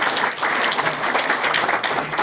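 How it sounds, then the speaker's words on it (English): A chamber of commerce breakfast audience applauds its guest speakers, many hands clapping in a loud, even, continuous burst. "giving them a round of applause for being here"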